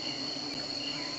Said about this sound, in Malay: Ini dikatakan nama manyuk tapang.